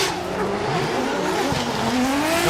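Drift car at Ebisu Circuit West Course in Fukushima running off course, engine held at high revs with a rising whine and tires squealing continuously, loud and close.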